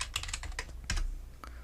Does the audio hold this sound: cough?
no